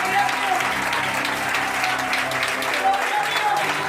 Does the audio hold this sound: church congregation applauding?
yes